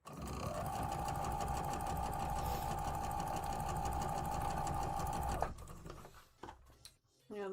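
A sewing machine stitches quilt seams in one long, steady whirring run for about five seconds, close and even, then stops, leaving quiet handling noises.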